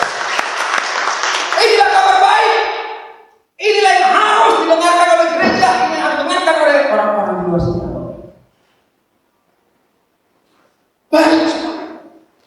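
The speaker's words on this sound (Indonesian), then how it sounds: "Tepuk tangan dong bagi Tuhan Yesus." Crowd applause during a church worship service, loud and sustained in two long bursts with a pause before a shorter third burst.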